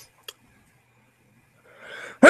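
One person sneezes loudly and abruptly, preceded by a breathy intake building up over a quiet room.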